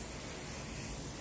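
An airbrush or spray can applies paint to a Bandai HG 1/144 Gundam Age plastic model kit. It gives a steady, close, continuous hiss with no break and no talking.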